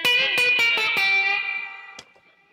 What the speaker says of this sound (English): that was a lot of reverb